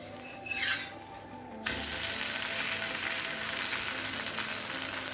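Bread uttapam fries in oil on a pan, a quiet start giving way to a sudden loud, steady sizzle that holds close and constant to the end.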